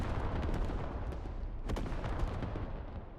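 Artillery barrage in a squad-based war video game: a dense, continuous rumble of distant shelling and gunfire rolls on throughout, with no voices over it.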